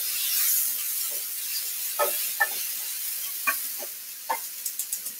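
Fruit tipped into a hot pan of caramelized onions: a soft steady sizzling hiss with a few light clinks and taps of stirring, growing into quick ticks near the end.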